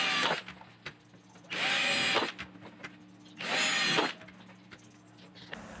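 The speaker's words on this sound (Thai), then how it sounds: "ผมก็จะทำการเจาะรูรอบๆบริเวณนี้นะครับเพื่อให้มีรูระบายความร้อนนะครับ" Power drill boring ventilation holes into the plastic cover of an LED bulb, two loud bursts of drilling about two seconds each separated by quieter handling noise, close by with no talk.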